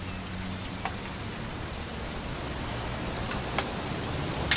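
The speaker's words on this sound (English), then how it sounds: "It's gonna rain the whole weekend," Rain falls steadily in the video game What Remains of Edith Finch, a constant dense hiss of rain on surfaces with a few sharper drops and drips standing out. It stays even and fairly loud throughout, with no voices.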